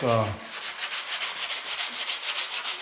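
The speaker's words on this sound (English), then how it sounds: "And lightly sand this area that's going to get glued." Forty-grit sandpaper rubs by hand across a 1966 C2 Corvette dash pad, a close rhythmic scratching in quick even back-and-forth strokes after a brief knock at the start.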